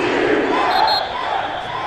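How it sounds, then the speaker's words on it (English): Home crowd in a Texans vs Jets football video game, a dense, steady wall of stadium crowd noise and applause that stays loud and continuous throughout. "the home crowd applauding"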